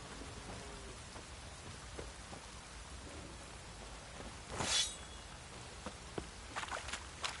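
Quiet, steady rain falls in the video game The Witcher, a soft continuous patter with a few louder bursts and scattered drips, faint and distant with no voices.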